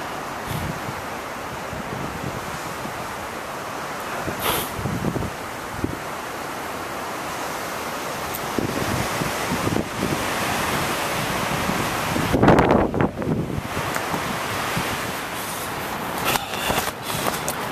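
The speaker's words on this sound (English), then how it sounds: "It's just way too windy here." Strong wind roars steadily across the microphone with lake waves washing in beneath it, gusting louder near the middle.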